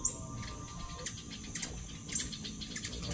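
Birds chirp around feeders on a farm, with short bright calls scattered over a steady background of insect buzzing, moderately close and fairly faint.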